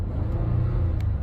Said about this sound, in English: I like how the engine sounds